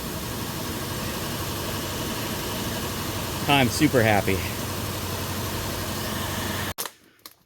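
A Toyota Tundra farm truck idles in a steady mid-range drone, while a person briefly speaks midway and the sound cuts off sharply near the end.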